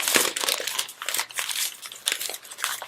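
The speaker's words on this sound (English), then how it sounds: "we crumple it all up?" Sheet of paper crumpled up by hand, giving a close, continuous crinkling and crunching with irregular bursts for about three seconds, no voices.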